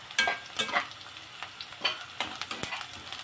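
Curry leaves hit hot oil with onions and tomato for Rayalaseema-style boti curry, crackling and sizzling in short bursts as a spoon stirs and scrapes the pan, close up with no voices.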